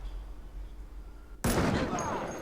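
A sudden sharp gunshot from the Black Panther film cracks out loud after a quiet stretch, its echo lingering and fading over the last second.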